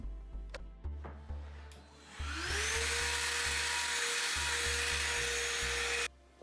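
A power tool cuts a chamfer along the bottom edge of a fence for a board, a steady loud whirring grind running for several seconds after a few soft low knocks, then cutting off abruptly.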